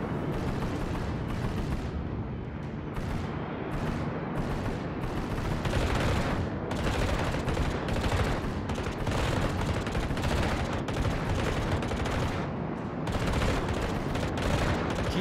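The destroyer Minekaze's guns fire in World of Warships, a sustained barrage of repeated booming shots and rattling bursts over fifteen seconds, loud and dense with no voices.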